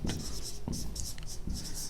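A teacher writes on a board in a classroom lesson: scratchy marker or chalk strokes come in short bursts, close and clear.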